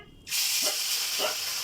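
Small morola fish hit hot oil and erupt into a loud, close hiss after a brief quiet start, settling into a steady sizzle with faint bubbling pops.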